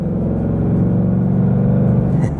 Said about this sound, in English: There is nothing like the sound of a V8 either.